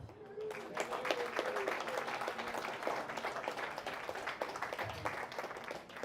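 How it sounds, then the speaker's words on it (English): A community audience gives a sustained round of applause, with dense clapping holding steady throughout and a faint voice briefly beneath it. "A round of applause for every single one of you."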